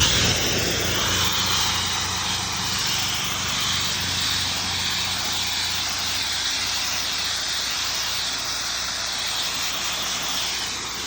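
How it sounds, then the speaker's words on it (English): An X-Jet pressure washer nozzle on its fan setting sprays hard onto a surface during rinsing, making a loud, steady, close hiss and roar that runs unbroken with no voices. "I'm gonna put this on fan and see if we can't aggressively rinse"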